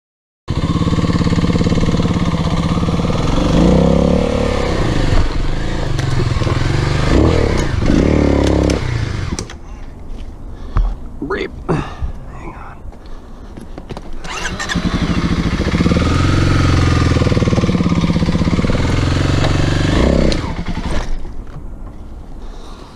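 A dirt bike is ridden on a wooded trail, its engine loud and close as it revs and labours. The engine cuts out and goes quiet in the middle, then rumbles back up to revving.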